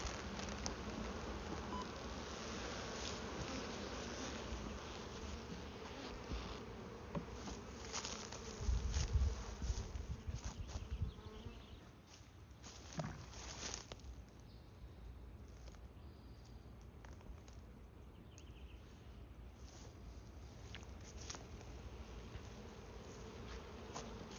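A honeybee swarm being moved into a new hive hums with a dense, steady buzz of many bees, close and continuous throughout, swelling slightly at times with faint handling noises.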